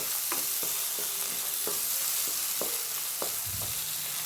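Fish sizzles while being sautéed in a pan, a steady frying hiss with regular scraping strokes from stirring, heard close and without speech.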